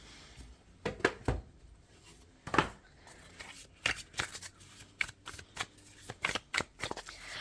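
Tarot cards are shuffled close up in quick, crisp bursts of riffling and slapping. Short pauses fall between the bursts against a quiet room.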